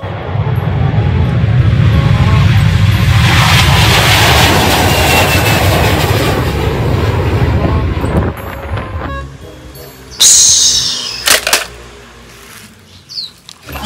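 A toy airplane makes a loud whooshing, roaring engine drone, followed by a few clicks and rattles as it fades.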